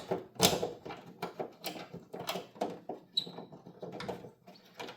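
Screws being backed out of the spoiler-mounted third brake light on a 1988–91 Honda Civic: a run of close, dry mechanical clicks and light scrapes of the driver turning in the housing, with a brief squeaky twist partway through.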